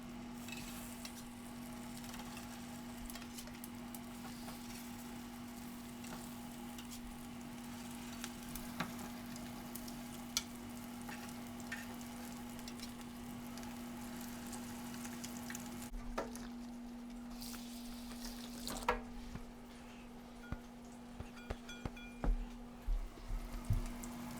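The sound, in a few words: fish cakes frying in hot oil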